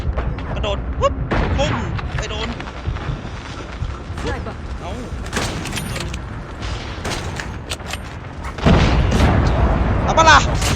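SP-R 208 sniper rifle gunfire in Call of Duty Mobile, scattered sharp reports and booms among busy in-game battle noise, with a louder burst of shooting near the end.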